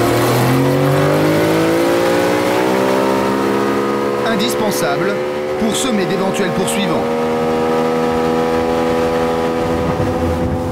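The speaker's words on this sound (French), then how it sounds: "un puissant moteur hors bord." A powerful outboard motor drives a poachers' boat at speed among coastal reefs, its engine whine climbing and sustained. Someone narrates over the loud, continuous drone.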